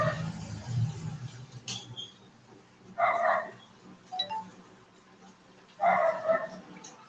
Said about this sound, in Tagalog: Maingay na naman ang aso.